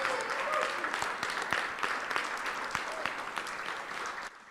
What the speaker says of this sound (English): Please, a huge round of applause for Eddie.